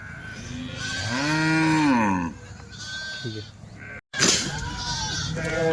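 Kathewadi sheep bleat close by, one long wavering bleat followed by shorter calls, loud against a rough outdoor background.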